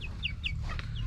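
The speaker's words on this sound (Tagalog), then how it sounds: "nakita nyo naman yung mga manok na natin ngayon." Chickens cluck in a pen, a few short high calls over a steady low rumble, close and with no talking.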